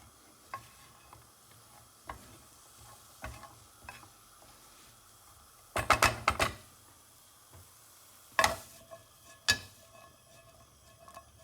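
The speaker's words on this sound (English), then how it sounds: "I'm gonna add the pasta here, and I'm just gonna mix it up all together for now." Cooked pasta is stirred together with black pepper in a pan, giving scattered soft scrapes and a few louder clattering bursts of utensil against the pan, close by with no talk.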